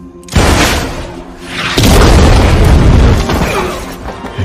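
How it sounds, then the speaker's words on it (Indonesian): A missile blows up in an action film with a loud, booming explosion that erupts suddenly, then a second heavier blast rolls out into a long, rumbling roar that slowly fades. "Salah satunya Demetrius bersama para pelayan akan meledakkan rudal."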